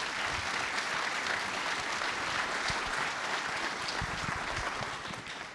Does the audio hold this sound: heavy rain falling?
no